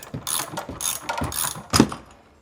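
A socket ratchet works on a power steering pump pulley, giving several close, sharp bursts of clicking pawl. The strokes are uneven, and a louder clack comes near the end.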